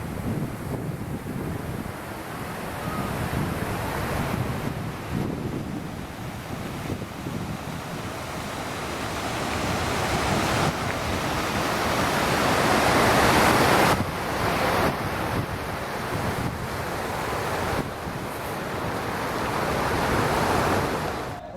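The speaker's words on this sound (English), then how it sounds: "It is still very windy" Strong December wind near the World War II Memorial in Washington, D.C. roars and buffets the microphone in long, rising and falling gusts, with no voices.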